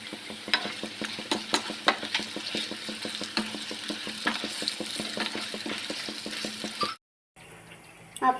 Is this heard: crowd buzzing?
no